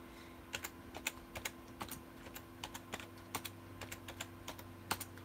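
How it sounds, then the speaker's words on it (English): Quiet, irregular keyboard typing, scattered keystrokes tapping in short bursts with pauses, close by over a low steady hum. "Typing with one hand is great."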